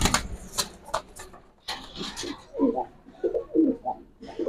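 An Archangel pigeon coos in a run of soft, low, rolling bursts close by, following a few sharp handling knocks and rustles at the start, with no talk.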